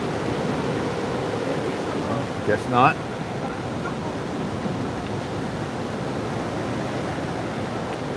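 Sea waves on a sunny day in Bali: a continuous broad wash of surf with wind rushing across the microphone, and one short spoken phrase partway through.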